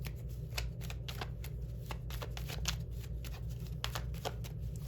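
Tarot cards being shuffled by hand, a steady run of crisp riffling flutters close up over a low background hum, with no voices.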